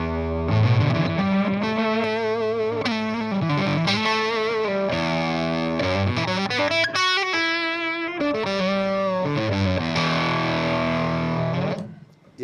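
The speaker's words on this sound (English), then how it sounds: "So here's the fuzz side of things." Two-transistor fuzz pedal on its fuzz setting, played with electric guitar: a thick, saturated run of sustained, harmonically rich notes and chords, loud and continuous for about twelve seconds before cutting off.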